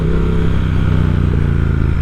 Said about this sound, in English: It's what these bikes are all about, this 1200cc engine.